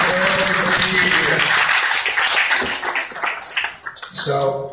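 A crowd applauds in a steady wash of clapping that fades partway through, then swells again as a voice begins to speak over it.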